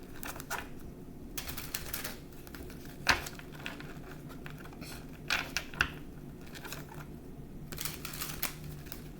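Tarot cards are shuffled by hand in a quiet room, with soft riffling and pattering bursts that come and go, dotted with a few sharper taps.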